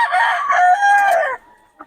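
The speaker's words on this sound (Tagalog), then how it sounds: "ganda ng manok niya ni Boss Ben." A single rooster crows loudly and close by, one drawn-out call that cuts off abruptly, followed by near silence.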